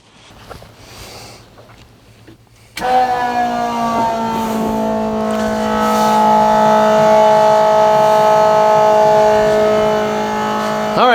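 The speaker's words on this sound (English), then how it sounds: "I'm going to turn on the pump and let all that stuff mix in there really good." An electric pump switches on abruptly and circulates fuel additive through a hot rod's nitrous enrichment tank, a steady, loud droning whine with strong tonal hum that holds and slightly rises after starting from a quiet room.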